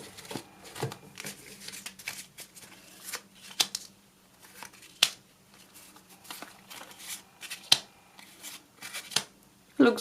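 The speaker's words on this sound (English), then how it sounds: "So I'm just gonna lay down a few cards for you to see what it looks like." Oracle and tarot cards being laid down one by one on a surface, making soft flicks and light slaps in an irregular rhythm, close and quiet, with brief talk now and then.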